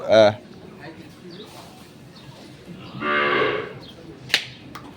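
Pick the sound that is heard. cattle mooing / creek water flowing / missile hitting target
cattle mooing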